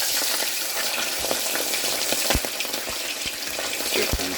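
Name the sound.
red snapper fish frying in hot oil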